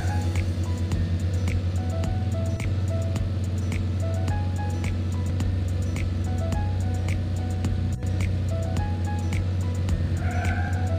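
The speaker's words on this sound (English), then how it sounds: "Drive the truck to deliver goods." A cartoon delivery truck drives along, its engine hum steady and droning beneath a repeating pattern of bright chimes and clicks, loud and continuous throughout with no voices.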